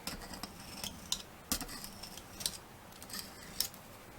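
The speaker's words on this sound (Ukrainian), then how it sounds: "Желе ми ріжемо. Також ріжемо прямо в мисці, отак." Knife slicing set jelly into small cubes directly in a bowl, a series of quiet, sharp clicking cuts spaced roughly every half second, close and isolated with no talking.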